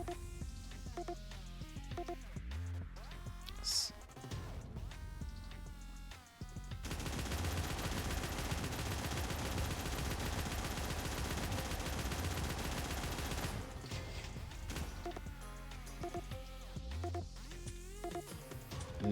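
Gunfire in the video game Snezhinka: Sentinel Girls 2, a dense, continuous barrage of rapid shots in the middle stretch amid tonal game effects, fairly quiet overall.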